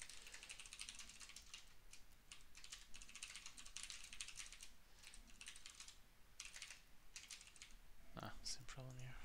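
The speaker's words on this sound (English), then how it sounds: "I'm having trouble typing today." Rapid, steady typing on a computer keyboard while coding, a continuous patter of soft key clicks heard close up and quiet, ending with a brief louder clunk near the close.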